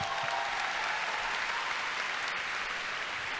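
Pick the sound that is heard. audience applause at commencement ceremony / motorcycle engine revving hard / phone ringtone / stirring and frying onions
audience applause at commencement ceremony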